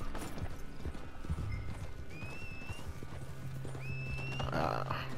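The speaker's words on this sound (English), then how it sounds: "Listen, I got a nice black horse." Rhythmic horse hooves clip-clop close by in Red Dead Redemption 2, with a couple of brief whinnies and a low engine-like hum under it.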